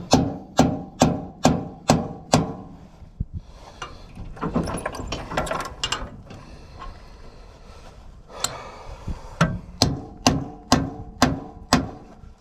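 A hammer strikes a chisel outdoors to free a sprocket from its shaft with a puller in place: two bursts of about six sharp metallic blows in quick rhythm, with quieter clanks and shuffling between them, close and alone.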